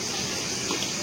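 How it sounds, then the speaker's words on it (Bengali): Soybean oil is poured into a hot wok, giving a brief, steady gushing hiss that fills the whole second, close and fairly loud. "তেল দিয়ে দিই"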